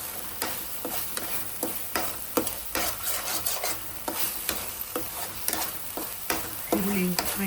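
Golden-brown onions frying in a pan for dhaba-style palak paneer, stirred with a spatula that scrapes the pan in steady, repeated strokes over a constant close sizzle.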